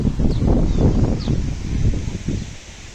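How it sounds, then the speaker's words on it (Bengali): Strong gusting wind roars in the open and rustles leaves, loud and continuous across the whole stretch with no voices. "এত বাতাস কেন যে বলতে পারব না আমি অসাধারণ বাতাস"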